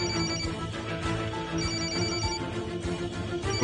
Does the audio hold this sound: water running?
no